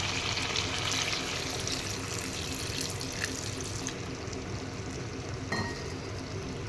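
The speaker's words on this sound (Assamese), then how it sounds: "তাৰপিছত এয়া মই অলপ পানী এড কৰি দিম।" Water runs and pours steadily into a pot of duck curry on the stove, a continuous splashing wash with a faint clink near the end, close and fairly loud with no talking.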